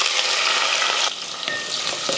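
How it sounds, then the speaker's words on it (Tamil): Shallots and curry leaves sautéing in hot oil in a kadai, a loud steady sizzle with brief stirring scrapes, no voices. "வெங்காயத்தை லைட்டாக வதக்கலாம்."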